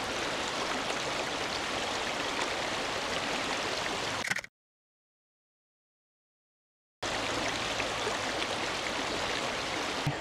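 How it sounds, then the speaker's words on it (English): Water rushes over rocks in a mountain stream, a dense, steady broadband wash heard close up, cutting off abruptly for a few seconds of silence before resuming at the same level. "Really want to just get the water coming off this rock."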